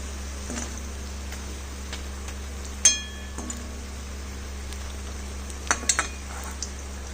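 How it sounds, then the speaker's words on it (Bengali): Curry leaf vadas fry in hot oil, a steady low sizzle running throughout, broken by a few sharp metallic clinks of a utensil against the pan near the middle and again toward the end. "দ্বিতীয় লটে বড়া কটাও আমি উল্টে দিয়েছি এবং সুন্দরভাবে ভাজা চলছে"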